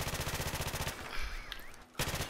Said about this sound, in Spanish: Voy a disparar a la chatarra antes de nada